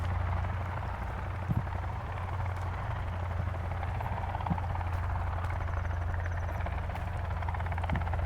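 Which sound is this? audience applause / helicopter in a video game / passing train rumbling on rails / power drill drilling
helicopter in a video game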